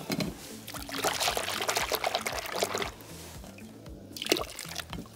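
Water pours and trickles through a filter while raw sheep wool is washed with a natural plant shampoo at a traditional Peruvian textile workshop, a continuous splashing pour with drips under a low background hum.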